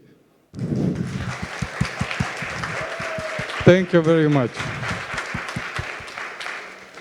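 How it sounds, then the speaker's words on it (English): A round of applause from the audience at a startup showcase in Vienna fills several seconds of steady clapping, with a presenter's voice speaking briefly over it and a brief high whistle-like tone partway through. "If you can give a round of applause, only if you believe that the paper manuals should change."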